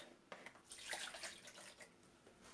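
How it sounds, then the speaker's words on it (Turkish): Lukewarm water pours into a bowl for soft sandwich bread dough, a faint, close splashing trickle lasting a couple of seconds in a quiet kitchen. "Öncelikle hemen ılık suyumuzu koyuyoruz."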